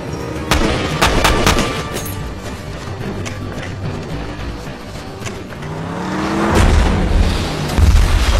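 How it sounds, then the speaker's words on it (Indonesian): In an action film about special forces raiding an armed cartel base, an RPG is fired at a vehicle. Loud booming blasts and gunfire crack over a roaring engine, and a heavy explosion swells near the end. "Untung saja, Rock tiba tepat waktu yang kemudian melepaskan RPG ke arah kendaraan mereka."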